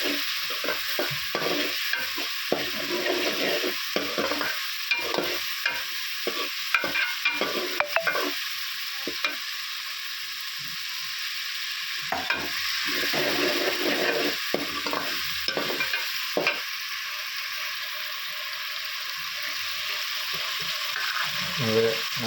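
Spiced Kathiyawadi-style soaked chickpeas sizzle in a pan after a splash of water, with a steady frying hiss broken by repeated scraping stirs, close and continuous.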